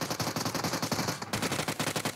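Rapid automatic gunfire in the mobile battle royale game PUBG Mobile, loud, close bursts of shots in a fast steady rhythm with a short break partway through, no talking.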